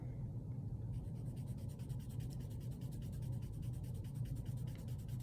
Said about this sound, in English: when you're layering colored pencils over top of each other